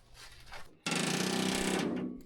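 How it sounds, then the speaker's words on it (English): An air hammer fires one loud, rapid rattling burst lasting about a second during a Ski-Doo Nordic teardown, after some quieter shop noise. "I'm going to get a different bit for the air hammer"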